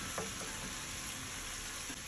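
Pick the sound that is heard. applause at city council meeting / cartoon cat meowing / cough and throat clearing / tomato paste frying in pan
tomato paste frying in pan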